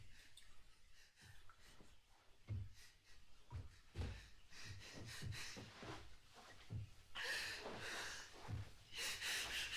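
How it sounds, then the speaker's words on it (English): Labored, pained breathing from a character in the Mouthwashing video game: quiet ragged gasps and snorting breaths in an uneven rhythm, with harsher exhalations toward the end and no speech. "the sound of Daisuke's labored pain breathing"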